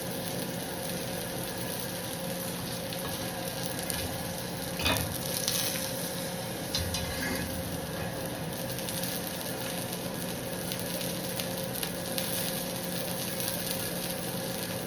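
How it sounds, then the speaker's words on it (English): Ribeye steak sizzling steadily in a skillet with fresh butter and garlic on top, a continuous close frying hiss with small pops and a brief clatter near the middle, no talking. "Turn that fire down and just let her have a great sizzle."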